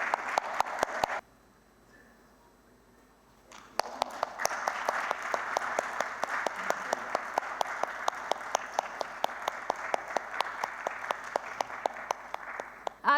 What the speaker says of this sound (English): Can we have another round of applause for our guest of honor,